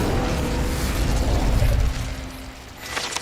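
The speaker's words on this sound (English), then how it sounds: "Incendio." An Incendio fire spell cast in Hogwarts Legacy bursts out as a loud, roaring whoosh of flame with a low rumbling body that swells and then fades over about three seconds, ending in a faint crackle.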